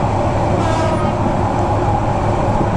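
The Upakul Express 712 intercity train running on the Dhaka to Noakhali line, heard from an open carriage door as a loud, steady rumble of wheels and rushing wind.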